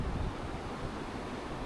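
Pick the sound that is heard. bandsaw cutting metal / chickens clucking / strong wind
strong wind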